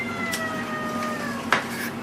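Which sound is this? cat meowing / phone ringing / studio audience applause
cat meowing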